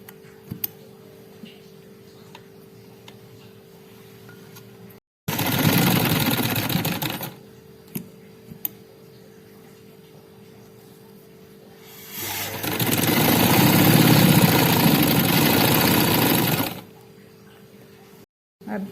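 A sewing machine stitches a patch onto a shirt in two loud bursts, a short run followed by a longer steady one, with quiet pauses between.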